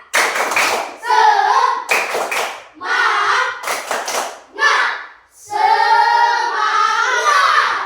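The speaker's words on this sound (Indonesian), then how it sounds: "Tepuk semangat." Schoolchildren in a classroom perform a patterned spirit clap, sharp group claps in short rhythmic bursts alternating with loud chanted voices, close and energetic throughout.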